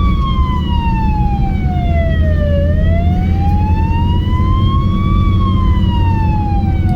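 A wailing ambulance siren in Poland sweeps slowly down and back up in pitch, loud and steady over a constant rumble of road traffic.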